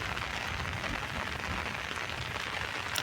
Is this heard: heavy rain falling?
yes